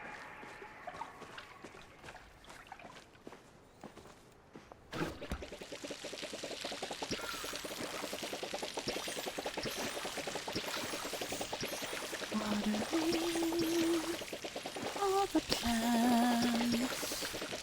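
Watering plants with a watering can in the video game Palia: a steady splashing pour begins partway through, running continuously under game music with brief tonal chimes near the end.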